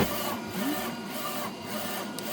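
A DTF printer with its ink drying unit runs close by, giving a steady mechanical hum with faint rhythmic pulses and a brief rising whine, no talking.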